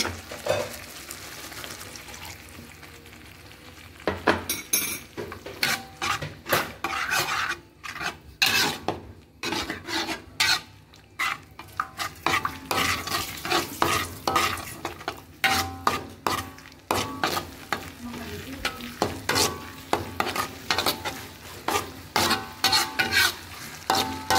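Spoon stirring a cornstarch slurry into sweet and sour sauce in a pan, continuous scraping and rubbing against the metal with bursts of quicker strokes, close, no talking.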